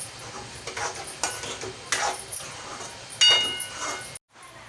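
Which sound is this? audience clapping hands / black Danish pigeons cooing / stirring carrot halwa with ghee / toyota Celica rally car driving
stirring carrot halwa with ghee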